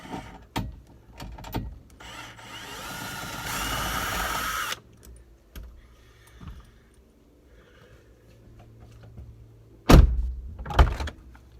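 A power tool backs the bolts out of a Jeep Wrangler JK sound bar, with one steady whirring burst of a few seconds, surrounded by close clunks, knocks and rattles of parts being handled, and no talking.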